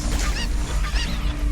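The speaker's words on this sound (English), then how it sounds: "Look at all those chickens." Chickens clucking in the video game Astro Bot, short squawky calls rising out of dense, busy game noise over a brief moment.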